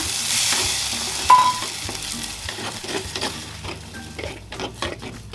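Ground tomato paste sizzles and spatters in hot oil in a pan for quail egg curry, with steady frying hiss, a few stirring scrapes and light utensil clinks near the pan.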